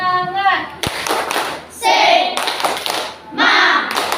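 A primary school class performs the tepuk semangat clapping chant, with bursts of rhythmic group clapping and children's voices shouting in unison, loud and close in a classroom.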